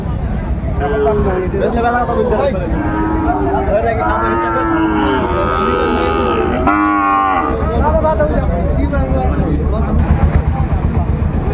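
Cattle at a Dinajpur livestock market with Sahiwal bulls and bull calves for sale low loudly in several long, overlapping moos, close by amid crowd chatter.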